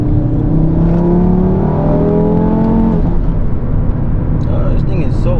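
A single-turbo car accelerates hard from close by, its engine note climbing steadily before dropping sharply around a gear change, then building again, loud and continuous.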